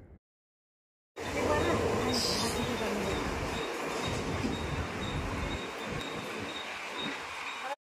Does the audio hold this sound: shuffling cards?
no